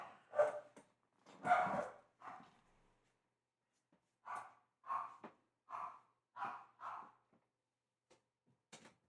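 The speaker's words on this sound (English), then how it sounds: "Motherfucking dogs, bro." Several dogs barking in bursts at a distance, a few quick barks, a pause, then a run of evenly spaced barks; no talking.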